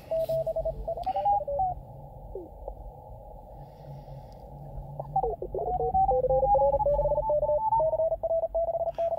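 Morse code CW signals on amateur radio around 14039 kHz during a busy CW Ops session, fast keyed tones beeping in rapid bursts over a receiver hiss, with some pauses and overlapping stations at slightly different pitches.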